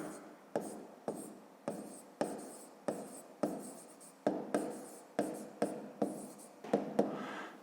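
Pen writing out an arithmetic check for a fifth-grade subtraction exercise, a steady scratching broken into repeated short strokes with sharp taps about every half second, close and fairly quiet with no talk.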